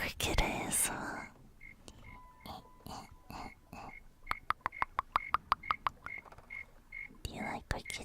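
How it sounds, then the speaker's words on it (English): Crickets chirping in the peaceful building game Tiny Glade, a steady run of fine rhythmic chirps, densest midway, under soft whispered talk. "I can hear the crickets."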